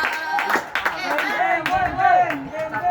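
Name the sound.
class applauding group 4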